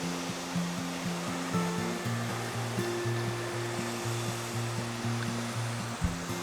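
Waterfall at Copper Creek Falls, Wilderness Lodge, heard from the top as a constant soft rush of falling water, with a faint low droning hum running underneath.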